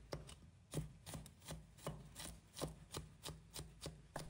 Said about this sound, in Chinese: 接着把拍好的大蒜剁一剁，反复切剁至细腻的蒜末